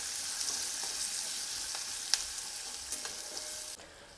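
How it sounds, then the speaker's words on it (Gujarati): Chopped medium onion sautéing in a pan over a very low gas flame gives a steady soft sizzle with a few light stirring ticks, close and continuous, cutting off near the end; no voices. "ડુંગળી સરસ સાંતળી લઈશું"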